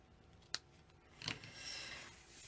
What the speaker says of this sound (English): So now there's my ribbon scissors, and I'll cut this off.